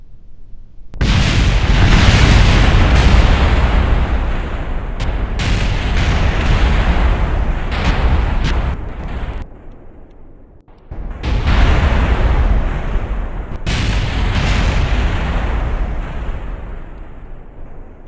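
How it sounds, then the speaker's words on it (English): A massive roaring blast as the N1 rocket explodes on the launch pad, rumbling continuously, deep and overwhelming, dipping briefly before surging again with crackling booms. "created one of the largest non-nuclear explosions in human history"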